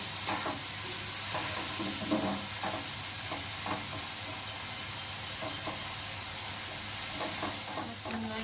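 Shrimp sizzles steadily in a hot pan with a constant hiss, while a utensil scrapes and stirs at irregular moments.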